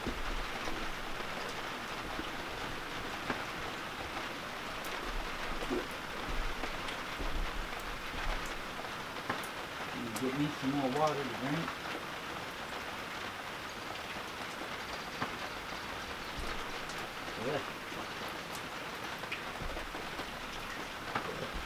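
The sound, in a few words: rain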